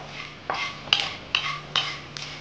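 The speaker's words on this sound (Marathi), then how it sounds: "उडदाची डाळ. ही थोडीशी लालसर होईपर्यंत आपण ह्याला परतायचंय." Urad dal sautéed in a pan, a spoon scraping and knocking against the metal about every half second in a steady rhythm, close and clear over a faint low hum.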